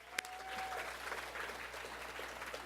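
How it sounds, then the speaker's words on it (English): An audience at a conference claps in steady, dense applause, heard fairly distant and faint in a large hall, with a sharp click near the start. "let's applaud ourselves"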